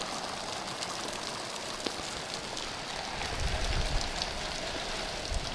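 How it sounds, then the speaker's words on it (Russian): Steady rain in Nyrob, Russia patters on a surface, a dense hiss of droplets close by with occasional heavier drops, no voices. "Этот дождь меня застал в Ныробе"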